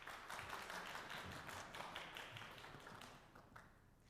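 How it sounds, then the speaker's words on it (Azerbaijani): Studio audience applauding a guest pediatric surgeon on a talk show: a soft, continuous patter of many hands clapping, heard from a distance and slowly fading toward the end. "Alqışlayaq."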